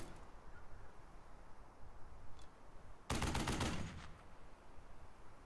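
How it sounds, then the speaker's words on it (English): A sudden loud burst of machine gun fire in the tactical war game Burden of Command, aimed at an enemy machine gun pit, lasting under a second against a low rumbling battlefield backdrop. "could this squad finally do away with this machine gun pit?"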